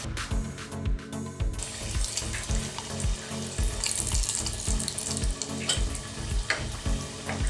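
Mustard seeds, urad dal and a broken dried red chili fry in hot oil for a chutney tempering, giving a steady loud sizzle with rapid crackling pops and occasional stirring clatter, no voices.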